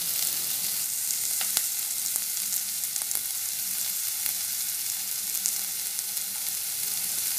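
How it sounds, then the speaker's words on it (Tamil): Two chopped onions sizzle and crackle in hot oil in a pan, a dense, even frying hiss with scattered pops, close and steady throughout with no talk. "ஆயில் சூடான பிறகு 2 வெங்காயம் அரிஞ்சு போட்டிருக்கேன்"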